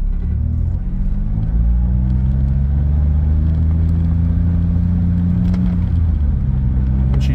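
A Smart ForTwo 450 with a rebuilt engine and automatic gearbox pulls away, its engine giving a steady, close, loud low rumble and drone that builds slightly as the car gets moving.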